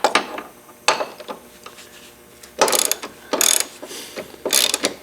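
Ratcheting bursts from a socket wrench loosening front suspension mount bolts, coming in several separate runs of rapid clicks with pauses between, close by and with no talking.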